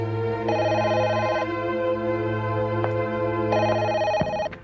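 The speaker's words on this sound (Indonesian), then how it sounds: "Madu, angkat teleponnya." A telephone rings in two loud electronic trills with a pause between them, close and clear over a steady background hum.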